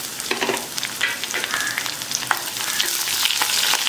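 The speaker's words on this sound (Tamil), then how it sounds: "நல்லா வதக்கிக்கோங்க" Steady crackling sizzle of chopped garlic frying in hot oil, with occasional stirring scrapes in the pan; no one speaks.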